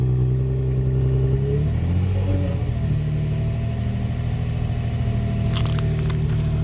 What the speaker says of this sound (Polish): przytrzymasz go tak na 1500 obrotów?